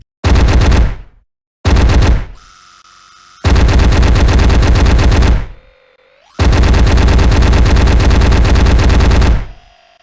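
A two-handed spinning gun in the VR game VRhammer fires in long, loud sustained bursts. Between bursts the barrel winds up and spins down with a whirring tone, and the bursts are separated by short pauses.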